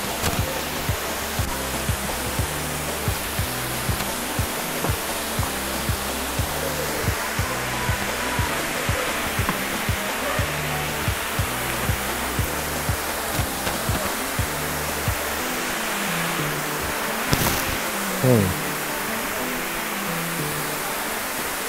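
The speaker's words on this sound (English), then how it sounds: "Yeah, this is the waterfall. The Ote Waterfalls." Ote Waterfalls at Amedzofe pour with a steady, loud broadband rush of falling water that fills the whole clip without pause, with a brief knock and a short rising squeak near the end.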